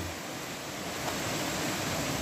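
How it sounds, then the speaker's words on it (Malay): King Rama waterfall rushing as a steady, dense wash of broadband noise, constant and fairly loud throughout with no voices. "sekarang kita berada di air terjun King Rama"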